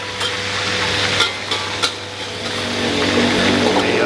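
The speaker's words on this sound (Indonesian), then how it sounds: "kita masukin udangnya. Oke. Ini kita goreng" Shrimp fry in hot oil in a pan, giving a steady, loud sizzle throughout with a few sharp clicks of utensils against the pan and no talking.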